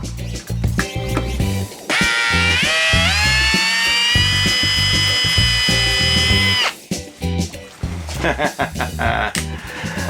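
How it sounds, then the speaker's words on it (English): A power drill whines loudly at a high, rising pitch for several seconds as it bores into a metal stud on a marine battery, between bursts of clanking and handling noise. "either that's a lot harder stud than I thought it was, or this is a crappy drill bit"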